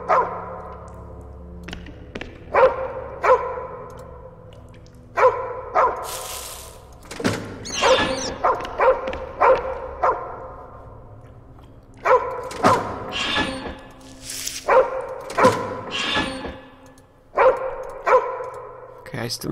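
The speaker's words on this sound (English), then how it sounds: "goodness, dog, you are noisy." A dog barks repeatedly in the Nightmares from the Deep 3: Davy Jones adventure game, sharp woofs and yips in uneven bursts with thuds, while a person talks over them throughout.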